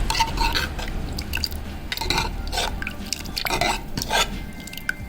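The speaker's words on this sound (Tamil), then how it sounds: "கஞ்சி இந்த டம் கப்பில் ஊற்றி காமிக்கிறேன்" Kavuni black rice porridge poured into a cup makes soft, thick drips and sloppy liquid splashes over a steady low background hum, close and continuous for several seconds.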